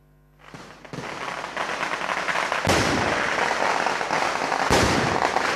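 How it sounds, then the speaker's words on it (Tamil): Firecrackers exploding at a Kerala temple festival, a loud, dense crackling barrage of rapid bangs with sharper, heavier blasts at intervals, continuous and close. "பட்டாசுகள் அனைத்தும் வெடித்து சிதறியதில் கோயிலின் கட்டிடங்கள் இடிந்து விழுந்தன"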